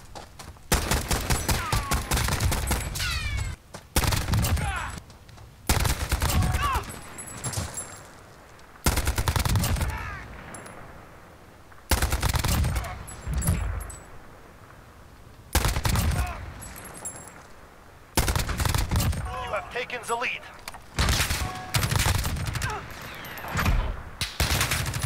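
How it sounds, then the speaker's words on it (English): Repeated bursts of automatic gunfire and shotgun blasts in the Call of Duty Warzone video game at the Verdansk stadium, loud and close, firing in clusters separated by brief pauses over much of the stretch. "he's using a shotgun."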